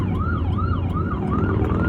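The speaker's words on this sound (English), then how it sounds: "Ambulance." A loud ambulance siren wails in a fast, repeating up-and-down pattern, close by over low traffic rumble.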